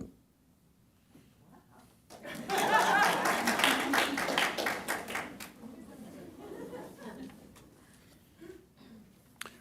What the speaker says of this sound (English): We only allow spontaneous applause